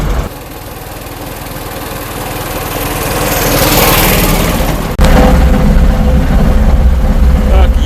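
A car engine drones steadily while driving, the hum swelling gradually before a sudden shift to a louder, rougher tone at about five seconds, with wind noise through an open window; the car is suspected of a front-axle knock and a muffler issue.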